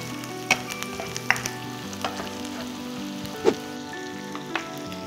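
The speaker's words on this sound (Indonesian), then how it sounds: "Ini kita goreng sampai cukup kering." Boiled squid frying in hot oil with garlic and shallots, a steady close sizzle with crackling pops and occasional sharp spits, heard alone with no talk.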